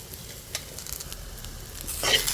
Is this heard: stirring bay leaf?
yes